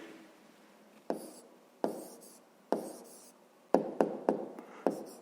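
Pen writing an answer in a notebook during a fifth-grade math exercise: close, quiet scratching strokes in irregular bursts, with sharp taps as the pen touches down, no voices.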